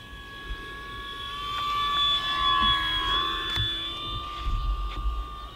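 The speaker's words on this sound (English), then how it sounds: "let's go flat pass on left to right here and see if we can get it kind of low right over the runway" An electric E-Flite P-51 Mustang RC warbird makes a low flat pass over a runway, its high motor whine rising as it nears, peaking mid-pass, then shifting in pitch and fading as it moves away.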